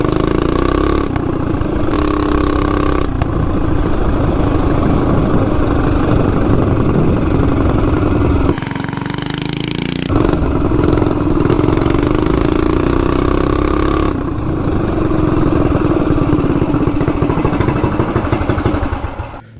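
A 420cc small engine with a stage 2 build, billet rod, billet flywheel and performance cam runs loud and close, its choppy exhaust idling and then revving in repeated surges with mechanical clatter.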